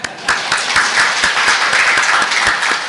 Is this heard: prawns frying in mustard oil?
no